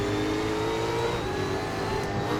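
A V8 Supercar engine revs hard and climbs in pitch as it accelerates out of a corner at the Townsville street circuit in Assetto Corsa, loud and continuous with no pauses.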